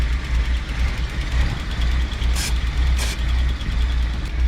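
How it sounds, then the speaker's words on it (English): A vehicle engine with the air filter removed idles steadily up close with a low, rumbling drone and a couple of brief hissing bursts of brake fluid sprayed around the intake. "how it idles up when I spray this?"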